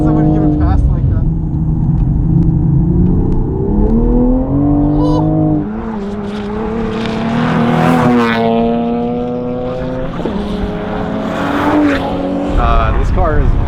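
Modified 2020 Toyota Supra with ZF transmission racing on a track at a track day, engine droning and rising in pitch through quick gear changes, loud and close throughout with tire noise and people talking over it.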